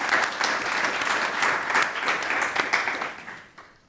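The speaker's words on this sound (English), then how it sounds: "I know I started with this clapping, but now we'll stop it" Audience applause at a panel on human trafficking and cities at the Basel Peace Forum 2023, a dense, steady clapping from a crowd that fades out toward the end.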